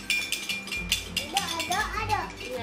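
A spoon clinks against a glass or cup while a homemade natural cough remedy for a child is stirred, giving light rhythmic metallic taps as an adult and someone talk over it.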